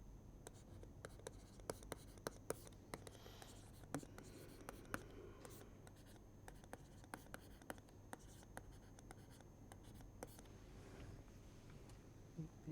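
Chalk or marker writing out equations by hand on a board during a rigid body kinematics lecture, faint scratchy strokes in steady bursts against a low room hum, with no talking.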